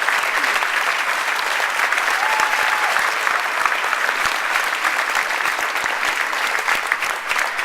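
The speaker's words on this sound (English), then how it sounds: "I think we owe them a huge round of applause as well" A school gymnasium audience at a wrestling assembly applauds steadily, a dense, sustained burst of many hands clapping from a large crowd with no break.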